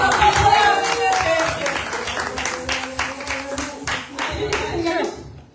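An audience at a French-speaking youth event claps loudly and steadily, with rhythmic beats and voices mixed in, before the applause tapers off at the end.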